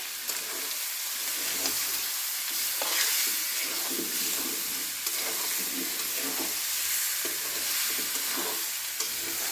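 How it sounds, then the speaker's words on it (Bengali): Fatty beef sizzles in a pot, a steady close frying hiss broken by repeated scraping strokes of a spoon stirring it, with no voices. "এখানে ভাজা ভাজা করে ভেজে"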